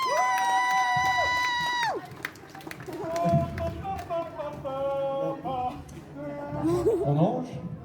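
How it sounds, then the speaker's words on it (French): Audience at the Man.Ga.Mes manga and games convention cheering and applauding, with whistles, shouts and tonal calls rising over a crowd after an introduction, with voices mixed in. "Vous pouvez l'applaudir."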